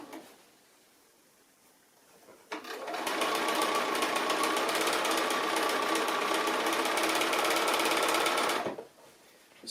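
A sewing machine stitches through two layers of fabric along a curve, running in one continuous steady burst of rapid motor whirring and needle chatter for about six seconds, close and clear, with quiet pauses before and after.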